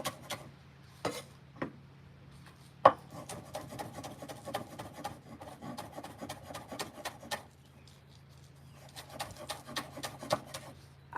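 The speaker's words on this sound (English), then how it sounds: "we are definitely going to be cutting our onions up" Knife cutting through fresh garden onions on a board: a steady run of short, crisp chopping strokes, close and moderately loud, with a few sharper knocks and brief pauses.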